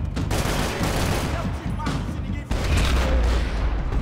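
Rapid gunfire from the PC shooter game Max Payne 3, dense overlapping shots in a sustained loud volley with a brief dip midway before resuming, along with a faint voice.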